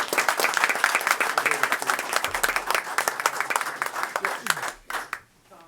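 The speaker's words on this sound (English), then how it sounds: "All right, another big round of applause" A round of applause at a Kill Devil Hills Board of Commissioners meeting: a small room of people clapping briskly with distinct individual claps, holding strong for about four seconds before tapering off to quiet.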